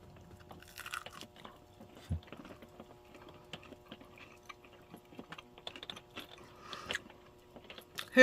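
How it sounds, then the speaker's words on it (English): Freshly fried breaded chicken bitten hot from the oil, giving a few crisp close crunches and chewing clicks scattered over quiet room noise. "here, listen for that crunch"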